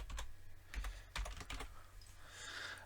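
A password being typed on a computer keyboard: a quick run of light, uneven key clicks, close and fairly quiet, with no talking.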